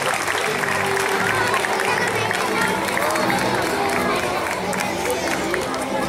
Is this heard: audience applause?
yes